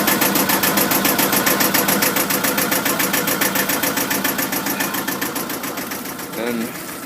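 The inboard engine of a Shannon 28 cutter-rig sailboat running at a steady, rapid mechanical chatter, gradually fading slightly, with someone talking over it.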